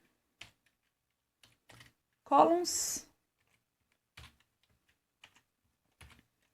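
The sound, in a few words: typing on a computer keyboard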